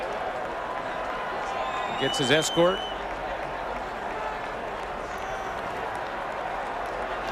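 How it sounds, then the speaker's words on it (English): Football stadium crowd at a CFL game, Winnipeg Blue Bombers at Saskatchewan Roughriders, sending up a steady broad roar of cheering and applause as a player walks off, with a commentator talking over it and a brief louder swell midway. "listen to the fans cheer him to the dressing room"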